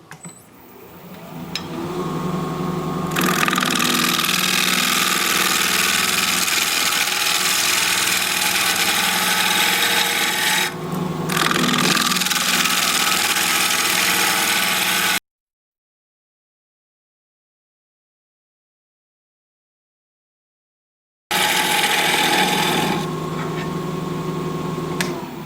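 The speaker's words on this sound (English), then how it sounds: "the chisel enters really easily into the cork, and then it gets more difficult when you get down into the wood" Wood-turning chisel cutting into a cork oak bowl spinning on a lathe, a loud steady grinding roar with the motor hum beneath, broken by a long silent gap before the cutting resumes.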